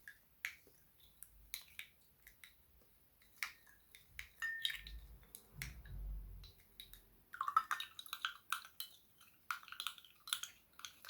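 A small whisk clicks and taps quickly against a container while mixing a niacinamide and hyaluronic acid face serum, with faint, irregular bursts close by and no voices.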